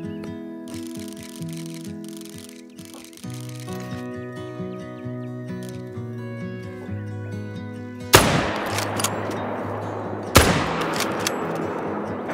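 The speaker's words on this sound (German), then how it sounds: "Sogar zwei Schüsse genommen" Two sharp, loud rifle shots in the video game The Hunter: Call of the Wild crack out a couple of seconds apart over a steady tonal music background, each trailing off with a ringing echo.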